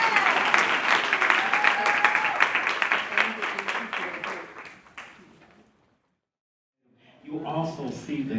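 An audience gives a sustained round of applause for Aretha at a bookstore gala, loud and steady for several seconds before fading to silence, then a voice resumes speaking.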